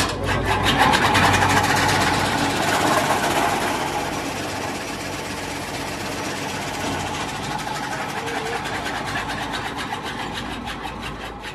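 At the Sangli agricultural exhibition, a fodder cutting machine rated at 2.5 to 3 tonnes runs continuously nearby, a dense, fast mechanical chatter and whir that stays steady throughout, loudest early on.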